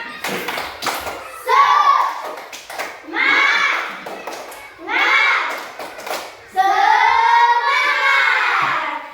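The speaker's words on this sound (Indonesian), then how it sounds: "Tepuk semangat." Children in a classroom do a rhythmic spirit clap, bursts of quick, patterned clapping with chanted young voices, broken by short pauses and ending in a longer, louder final burst.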